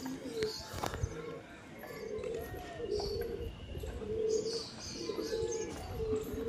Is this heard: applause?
no